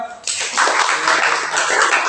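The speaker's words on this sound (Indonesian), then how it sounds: "Tepuk tangan ya." Audience clapping in a classroom session, a dense continuous patter of many hands filling the room after a brief pause, steady and fairly loud with no talk over it.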